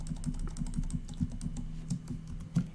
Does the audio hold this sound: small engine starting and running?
no